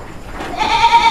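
A goat on a farm gives a single short, close bleat, with no talk over it.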